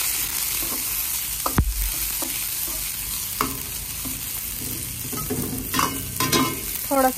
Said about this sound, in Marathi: आता आपण तेल टाकलंय, त्याच्यात हा कोबी टाकायचा पहिला आणि त्याला परतून द्यायचा थोडासा.